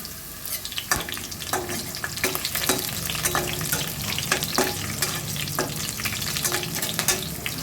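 Two green chillies drop into hot oil for a chicken curry and fry with a busy crackling sizzle, broken by sharp pops and spatters and the scrape of stirring, loud and close with no talking.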